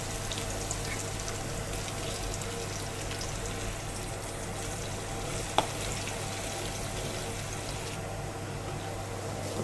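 Steady, crackling sizzle of onions and green chillies frying in a pan continues throughout, with one brief clink partway through; no voices.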